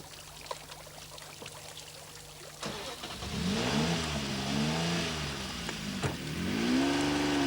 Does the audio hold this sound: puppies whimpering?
no